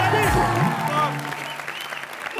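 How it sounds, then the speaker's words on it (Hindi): Loud clapping from a studio audience at a Hindi comedy entertainment show, a dense burst of applause mixed with voices and background music that stays strong throughout. "जोरदार तालियां"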